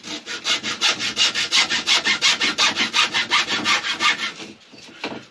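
Cheap wooden trim from B&Q sawn to size by hand while fitting out a camper van, a steady run of about twenty rasping back-and-forth strokes, close and loud, stopping abruptly near the end.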